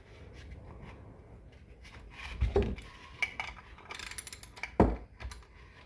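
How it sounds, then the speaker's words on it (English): Metal parts clicking and rattling as a flywheel nut goes onto the crankshaft of a Husqvarna 272XP chainsaw during a bottom-end build, quiet close-up taps with a couple of louder knocks. "I'm going to put the flywheel nut on."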